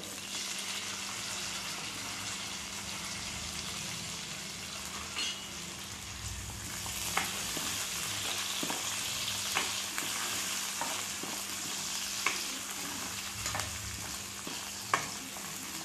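Mini tomatoes frying with green chillies in a pan over low gas, a soft continuous sizzle with occasional stirring scrapes and small pops, quiet and close.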